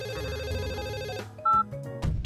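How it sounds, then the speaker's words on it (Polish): A Samsung phone rings with a melodic electronic ringtone of short repeating notes, loud and clear, breaking off into a few separate tones near the end with no talking. "Czy to telefon Samsung?"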